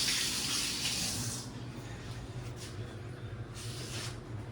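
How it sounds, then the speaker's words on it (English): Hands are rinsed under a running tap. The water gushes loudly for a moment and then settles into a softer, steady stream. "I'm going to rinse my hands."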